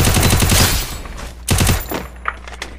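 Rapid bursts of automatic gunfire from a mobile shooter game played on Android with a Flydigi Q1 Pro controller, a loud dense volley at the start, then a second burst, followed by a few isolated sharper shots.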